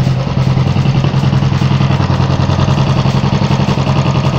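A Royal Enfield EFI motorcycle engine idles at raised RPM, a loud, steady, close-up mechanical thrum with a fast even pulse and light clatter, running alone throughout.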